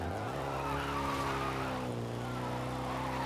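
A car slides under the handbrake, tires skidding across the surface with a continuous rough scrub over a strained engine note that dips and recovers, loud and close.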